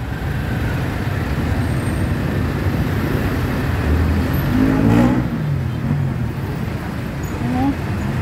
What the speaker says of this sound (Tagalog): Traffic, hindi ka makadaan mga kapapsi.